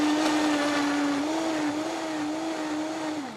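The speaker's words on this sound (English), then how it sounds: "And then we're going to start blending." A blender motor whirs steadily at high speed while blending a creamy cauliflower sauce for roast chicken, the pitch wavering slightly as the contents churn, loud and close throughout with no talking.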